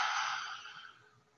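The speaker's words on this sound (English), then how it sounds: "Inhalation with your nose while exhale to your mouth with ha sound." A single breathy "ha" exhale through the mouth during yoga breathing, soft and close, fading away over about a second.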